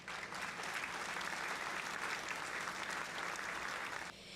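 Steady, dense applause from a crowd, even and sustained throughout before dropping off abruptly near the end.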